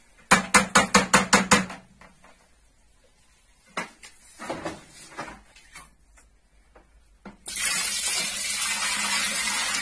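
Clean water gushes steadily into a bucket of grated cassava being soaked to ferment for Cameroonian wata fufu, following a rapid run of sharp knocks and a few clatters of the bucket.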